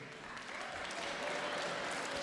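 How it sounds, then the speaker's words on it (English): An audience at a live conversation event applauds in a dense, steady wash of clapping that swells slightly and holds, with no speech over it. "They're clapping Gulliver's."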